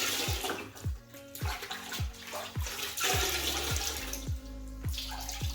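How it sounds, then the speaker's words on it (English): A big red sponge is wrung out into a bucket of rinseless wash water while a car with a ceramic coating is being cleaned, giving close, repeated bursts of splashing and trickling water with no talking. "And then wring your big red sponge out into your water."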